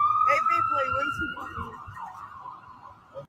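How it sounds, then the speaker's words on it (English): Sirens wail loudly at first, a rising and falling electronic tone that gradually fades over a few seconds, with a background voice briefly audible. "she started tripping when them sirens went off"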